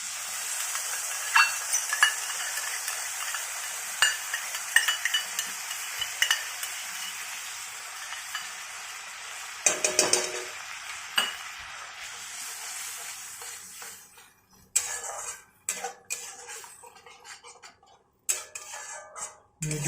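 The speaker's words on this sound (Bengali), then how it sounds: "দইটাকে এরকম নাড়তে হবে" Whisked yogurt is stirred in a hot frying pan for Bengali dohi katla fish curry, giving a continuous close sizzle broken by repeated light scrapes and taps of a spoon, which grow sparser and more clattery toward the end.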